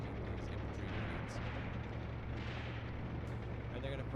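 Tank cannons and machine guns fire during a battle in the war game Graviteam Tactics, forming a dense, continuous roar of rumbling blasts and rattling gunfire with no quiet gaps.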